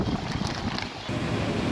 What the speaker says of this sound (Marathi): परभणी शहरामध्ये मोठ्या प्रमाणात वाऱ्याने वादळी वाऱ्याने आणि हलक्याशा पावसाने हजेरी लावलेली आहे